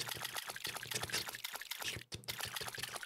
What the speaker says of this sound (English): Let's water.